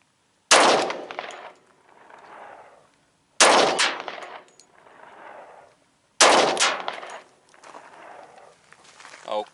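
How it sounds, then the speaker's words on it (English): Three .45 Auto rounds fired one after another from a Smith & Wesson M&P Shield pistol, loud, sharp cracks spaced a few seconds apart, each with a brief echoing tail. "we're gonna do 3 rounds out of the shield"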